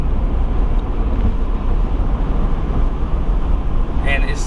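A Ford F350 with the 7.3L engine cruises on the highway around 69 mph in 8th gear, giving a loud, steady low drone of engine and road noise that runs the whole time with no break.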